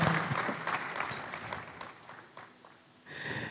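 Applause from a conference audience for a speaker, a dense broadband patter that fades partway through before picking up again near the end.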